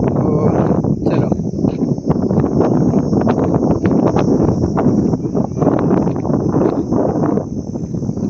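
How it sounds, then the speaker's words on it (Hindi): Cold evening wind blows through a village, a loud, steady, buffeting rush that fills the whole stretch, with rustling beneath it and a faint high hiss running throughout. "बहुत ठंडी ठंडी हवा चल रही है"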